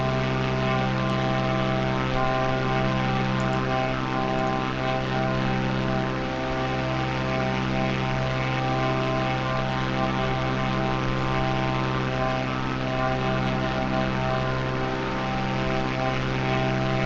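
A propeller aircraft engine drones steadily on approach to runway 25 left in a flight simulator game, its tone even and loud for the whole stretch, with no talk.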